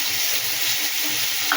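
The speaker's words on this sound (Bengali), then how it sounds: "পেঁয়াজও ভাজা চলছে" Onions sizzle with spices in a pan, an even, steady hiss close by with a faint stirring scrape near the end.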